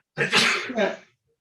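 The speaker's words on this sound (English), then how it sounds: "I'm going to sneeze" A single loud sneeze bursts out close to the listener and ends abruptly, followed by silence.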